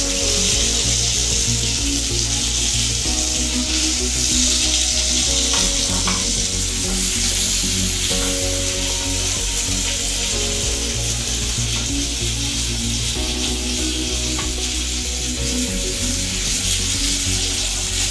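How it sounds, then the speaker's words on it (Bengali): Fish frying in oil in a wok, a loud continuous sizzle with hiss that runs the whole time. A steady mechanical hum sits underneath, and nobody speaks. "এপিট ওপিট করে ভেজে নিয়েছি সুন্দর করে।"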